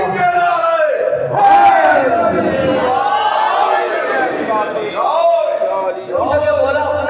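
A large crowd at a religious majlis chants slogans in loud, rhythmic group shouts that swell and fall in repeated waves, close and dominant with a strong voice leading.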